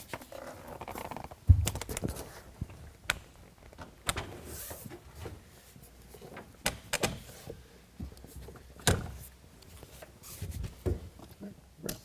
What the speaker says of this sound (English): Then we can fold it back to the tailgate.